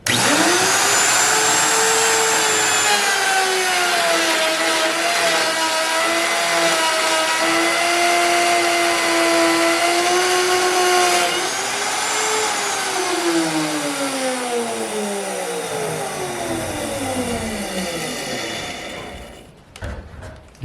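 A round router bit whines steadily as it cuts limber holes into wooden boat stringers, the pitch sagging slightly under load and sliding down as the tool spins down at the end.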